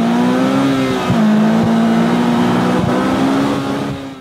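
A 2021 Polaris Slingshot engine revs hard and loud up close, a sustained high buzzing drone with brief dips between gear shifts, running continuously and easing off at the end.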